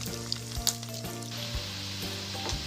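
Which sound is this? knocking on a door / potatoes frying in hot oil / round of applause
potatoes frying in hot oil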